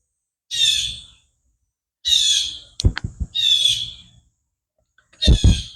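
Bird calls ring out in four loud, separate bursts of bright, harsh squawking, each close and clear, with short sharp clicks between them and silence in the gaps.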